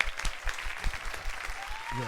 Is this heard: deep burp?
no